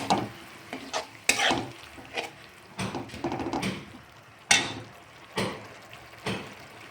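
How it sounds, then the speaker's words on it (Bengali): Grated onion is stir-fried in a pan for a fish curry. A low sizzle runs underneath as a spatula strikes and scrapes the pan in loud, irregular bursts. "এবার এটাকে ভালো করে কষাবো।"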